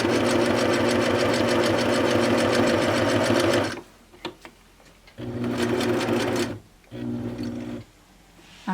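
A sewing machine stitching binding onto a quilt runs in loud, steady bursts of rapid needle chatter, stopping briefly between runs, close by with no speech.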